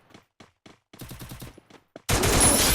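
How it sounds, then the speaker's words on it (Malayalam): Gunfire in the mobile battle-royale game Free Fire Max: a few short bursts and scattered shots, then a loud, sustained burst of fire at the end. "ആ വേറെ ബാക്കിൽ നിന്ന് വെടി"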